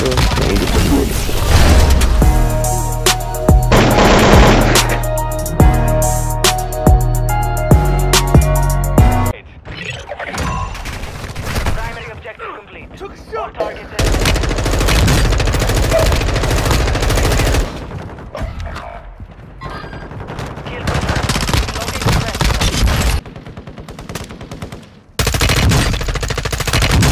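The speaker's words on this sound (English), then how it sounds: "Oh, that was bullets over there." Dense gunfire from a Warzone 2.0 match on Ashika Island, with rapid automatic bursts and heavy crackling shots filling most of the stretch, loud and close, broken by brief gaps.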